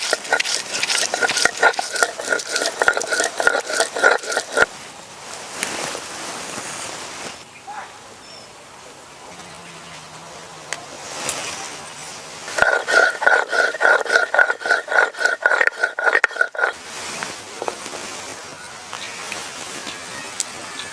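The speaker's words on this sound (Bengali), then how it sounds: "এবার শিলে সব মশলাগুলো বেটে নেব।" Spices with green chillies and dried red chillies are ground on a stone slab (shil), two long bursts of fast, rhythmic back-and-forth scraping strokes, close and loud, with quieter handling between them.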